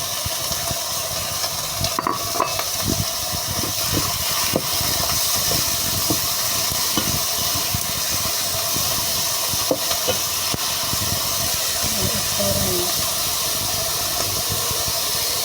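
Chicken liver sizzles steadily in a hot pan with a dense, continuous hiss throughout. Occasional scrapes and clinks of a utensil come through near and clear.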